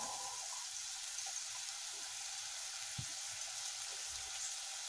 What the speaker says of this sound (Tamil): நல்லா வணக்கிக்கணும்.